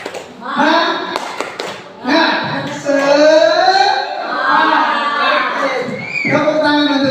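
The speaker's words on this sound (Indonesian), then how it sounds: "Tepuk tangan untuk kita semua." Teachers and children clap their hands together in a group, with quick, close taps running through the whole stretch under loud overlapping voices chanting and speaking.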